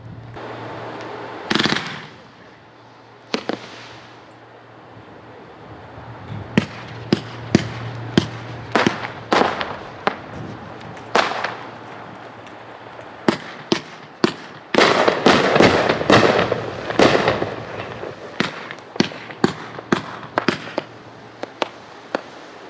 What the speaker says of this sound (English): Amazing Grace is a 25 shot, 500 gram cake by Hot Shot.